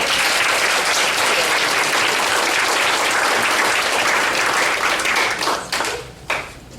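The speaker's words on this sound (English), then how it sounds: "Another round of applause for our" A pageant crowd at a Miss Memphis contest gives loud, sustained applause, a thick continuous roar of clapping that thins and breaks into scattered claps in the final seconds.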